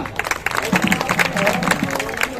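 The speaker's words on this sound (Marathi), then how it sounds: "बाबासाठी एवढा टाळ्या वाजवा बाबा" An audience claps for the speaker at a Sant Rohidas Maharaj Jayanti kirtan, a dense, continuous burst of applause with crowd noise and voices mixed in.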